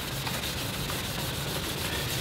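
Steady abrasive rubbing of sandpaper across a wing skin for a Seversky P-35A aircraft being fabricated, a continuous close scratchy hiss with no pauses or voices.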